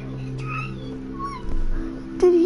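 A black and white pet cat gives a short meow near the end, heard over a low steady hum and some faint background voices.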